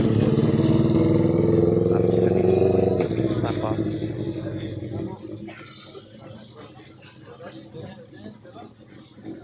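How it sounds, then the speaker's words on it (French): A go-kart engine roars loud and close while the kart drifts, then the motor noise fades and drops away as someone talks over it in French. "On va venir le taper avec l'arrière du kart, enfin l'arrière. Un petit drift, sympa."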